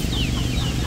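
Chickens cluck near a new coop under construction, brief close calls over a dense, loud background rumble.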